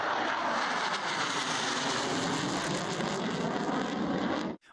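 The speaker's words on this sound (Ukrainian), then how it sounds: "У небо один за одним здіймаються військові винищувачі." Military fighter jets take off from an air base in Lutsk with a loud, continuous engine roar. It holds steady and fills the whole stretch before cutting off abruptly at the end.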